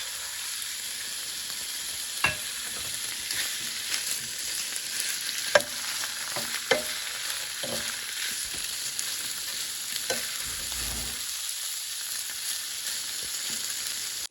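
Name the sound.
chicken sautéing in oil in a pan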